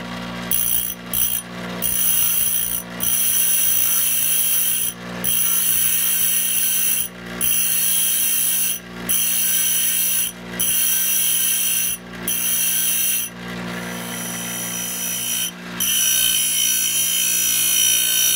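Grinding on metal teeth in a machine shop while working on a round column mill: a steady, loud abrasive whir runs throughout, broken by about a dozen brief pauses as the tool lifts off the work.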